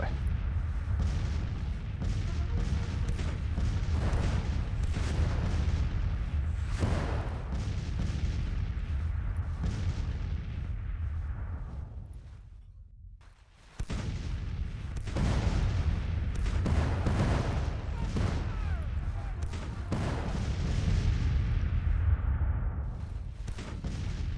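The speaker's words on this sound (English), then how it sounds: "The other batteries back there are now firing at us." Artillery batteries firing in the Civil War game Grand Tactician, a continuous rolling barrage of deep booms and cannon reports, some close and heavy, others distant, with a brief lull partway through before the firing resumes.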